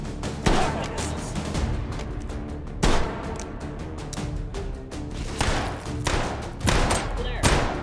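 Gunfire in the VR shooter H3VR, with several sharp, loud shots and thumps ringing out at irregular intervals over a busy game soundscape.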